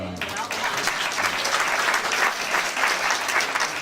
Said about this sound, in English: stop clapping. You're supposed to clap when I'm done